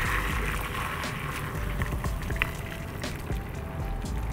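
Beef pho broth being strained, a steady pouring and splashing of liquid with faint drips running continuously and fairly close for several seconds.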